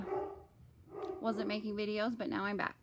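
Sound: Great Pyrenees dog barking

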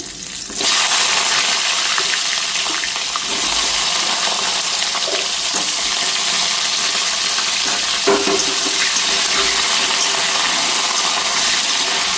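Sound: frying potatoes and pointed gourd in a pan

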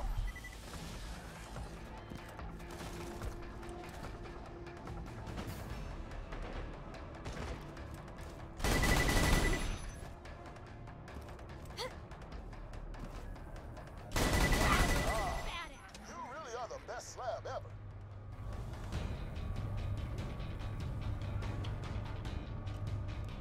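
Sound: gunfire in the video game Borderlands 2

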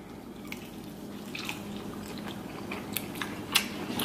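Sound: eating lobster tail, chewing

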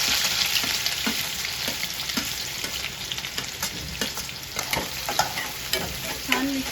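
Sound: chopped onion frying with garlic in a pan

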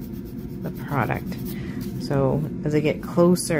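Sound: nail file filing product off a fingernail

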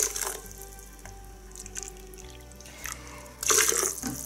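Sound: slightly hot water poured into a blender for coconut milk

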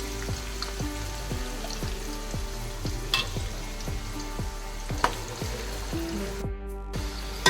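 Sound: onions frying in oil for mutton masala

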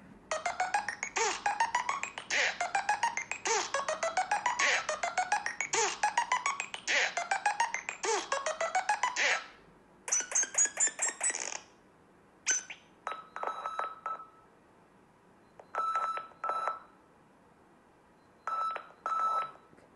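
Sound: Nothing Phone 1 ringtone

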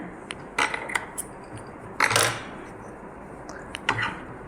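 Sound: scissors cutting threads on aari work blouse

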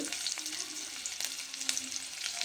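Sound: garlic and green chilli paste frying in hot oil

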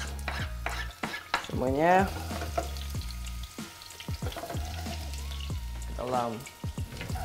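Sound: garlic, shallots and ginger sautéing in a pot

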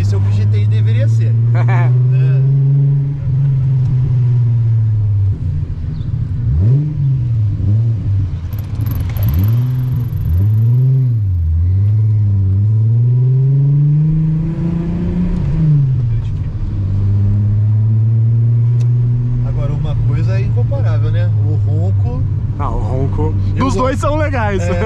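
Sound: six-cylinder car engine revving

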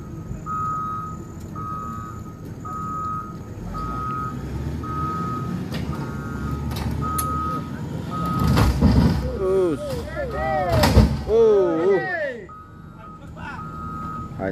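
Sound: reversing beeps of a truck during evacuation

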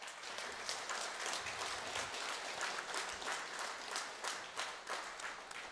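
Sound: audience applause

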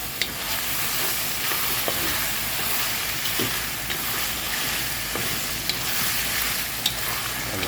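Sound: stirring duck adobo in coconut milk in a pot

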